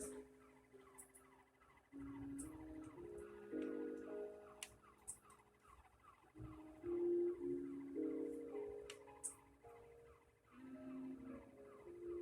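Police car siren in the Halo 3 ODST video game, a wailing, warbling tone rising and falling in repeated bursts across the clip, mixed with game music and clicks.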